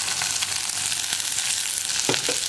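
Dried red chillies, sliced onion and curry leaves crackle and sizzle in hot oil for cabbage mezhukkupuratti, a steady close frying hiss with a few sharper pops near the end, no voices.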